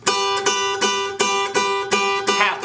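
An acoustic guitar plays a Delta blues pinch, thumb and index plucking strings together in about seven evenly spaced, bright ringing plucks over a steady bass note, close and alone.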